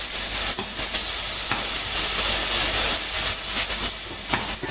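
Anchovies sizzling in a hot pan while cooking keto rigatoni with turnip greens, a steady close broadband hiss that holds for several seconds with a few brief crackling spikes and no talk.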